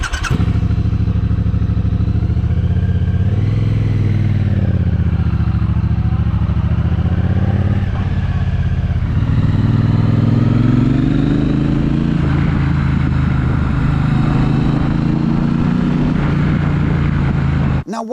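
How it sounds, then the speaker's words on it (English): Triumph 1200cc parallel-twin motorcycles with 270-degree cranks, a 2021 Bobber and Speedmaster, accelerating hard, the deep throbbing exhaust note climbing in pitch through several gears, loud and close throughout. "Both of them sound absolutely lovely under acceleration."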